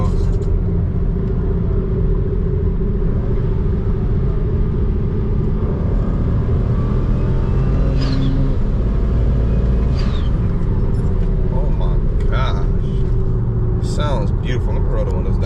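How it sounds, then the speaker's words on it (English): BMW 335 with turbo engine accelerating hard during a pull, a steady loud cabin rumble of engine and road noise with faint whooshing turbo spool rising over it. "so y'all can hear the turbos."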